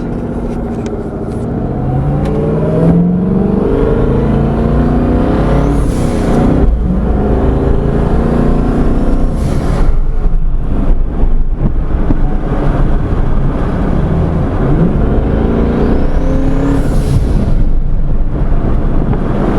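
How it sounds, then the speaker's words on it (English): A twin-turbo Ford Mustang S550, freshly rebuilt, accelerates hard with loud turbo whoosh and rising engine roar through repeated gear pulls, heard from inside with heavy wind buffeting over it. "it's crazy how loud those turbos are"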